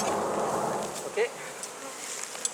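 Honeybees buzzing at a hive, a dense close hum of many insects with individual bees whizzing past, no talking.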